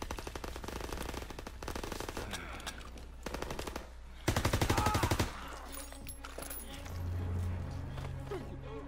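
Sustained automatic gunfire in Call of Duty WW2, a dense rapid rattle of shots running throughout with a louder close burst in the middle and game sound and music underneath.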